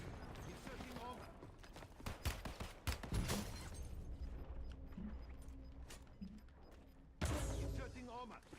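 Video game gunfire from Call of Duty Warzone crackles in repeated sharp bursts and single shots, mixed with game voice lines and mechanical clicks. A louder volley lands near the end.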